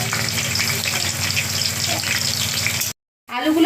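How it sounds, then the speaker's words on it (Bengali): Potatoes fry in hot mustard oil in a wok, a close continuous sizzle and crackle that cuts off briefly, then resumes with fresh spitting. "প্রথমে লেমন চিকেনের জন্য আলুগুলোকে একটু ভেজে নেব"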